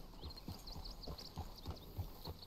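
Horse hooves clip-clopping in Red Dead Redemption 2, a steady, faint run of soft thuds at walking pace with no talk over them.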